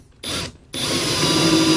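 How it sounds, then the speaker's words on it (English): A power drill fitted with a hole saw, run backwards, cuts a hole in the wall of a 2018 Jayco RV, starting in a brief burst, pausing, then grinding steadily and loudly up close. "run the hole saw backwards, you actually get a little bit cleaner cut"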